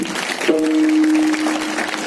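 An audience at a kirtan during a Shivjayanti saptaha claps together in a loud, continuous burst, with a held musical tone briefly sounding through the middle of the applause.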